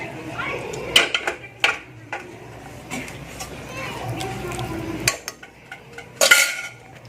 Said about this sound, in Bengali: দেখুন আমি পুরো ডালটা ঢেলে দিচ্ছি কুকারে।